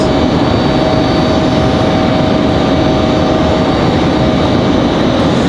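An airliner at Raleigh-Durham International Airport roars with a loud, continuous broadband engine rumble and a faint steady tone, filling the whole span with no talking.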